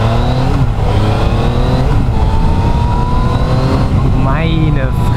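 A Yamaha XSR 700 motorcycle accelerating hard, its engine note climbing through rising revs and a gear change, loud and close with a rider's voice talking over it.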